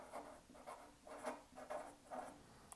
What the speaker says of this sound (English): So I'm going to go ahead and write anode over here